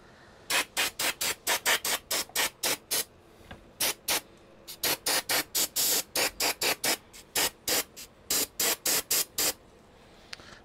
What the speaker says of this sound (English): We'll use some starting fluid.